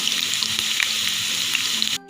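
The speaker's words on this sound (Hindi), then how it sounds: "अब हम इस पर ये तड़का लगाएंगे तेल के अंदर डाल के।" Steady, crackling sizzle of whole spices frying in hot oil for a tempering, close and loud throughout, then cutting off abruptly near the end.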